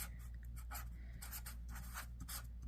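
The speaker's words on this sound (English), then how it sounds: "I'm just going to write my verse right on top of this" Pen strokes of handwriting a Bible verse on top of a craft page for a palm-tree beach scene, a close, steady series of short scratchy scribbles with no talking.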